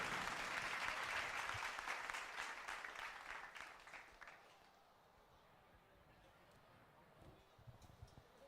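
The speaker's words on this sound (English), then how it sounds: "A huge round of applause," Audience applause at a GRAVITAS 2023 event, loud and dense at first, then gradually thinning and fading to a few scattered claps under low room noise.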